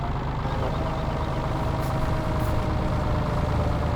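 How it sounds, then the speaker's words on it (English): A tractor engine runs steadily and close by, a continuous low, even rumble at idle that holds throughout with no talk over it. "We have a tractor here."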